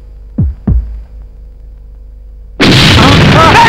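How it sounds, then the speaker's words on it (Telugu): A kitchen blast in a Telugu comedy film scene: two low thuds, a quiet lull, then a sudden loud roaring explosion that keeps rumbling to the end. "ఆపరేషన్ కిచెన్ బ్లాస్ట్, నీ క్వార్టర్ పేలిపోతుంది"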